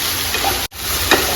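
Food fries in a non-stick pan during mushroom gravy cooking, giving a close, steady hiss and sizzle that cuts out briefly before resuming with faint stirring ticks.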